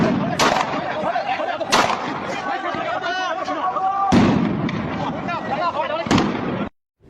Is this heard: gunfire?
yes